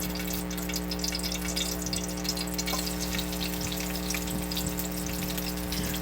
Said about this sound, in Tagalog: magpainit na po tayo ng mantika sa kawali